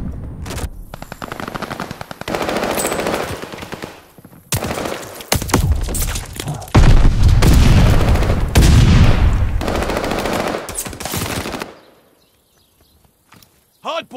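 Rapid automatic gunfire crackles in long, loud bursts during a Hardpoint match in a first-person shooter, with voices over the shooting, before the firing cuts out into near silence at the end.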